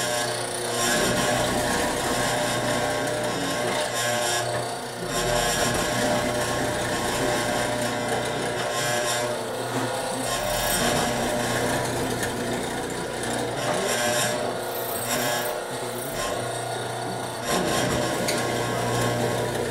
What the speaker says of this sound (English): But now I'm mortising the legs.